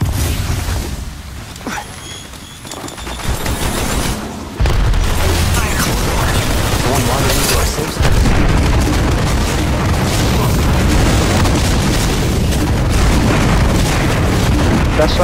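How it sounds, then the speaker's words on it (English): Thermite grenade blast in the mobile battle royale game Apex Legends Mobile: loud booming bursts and crackling fire over continuous dense game noise, with a heavy low rumble building and sustaining through the second half. "Thermite grenade."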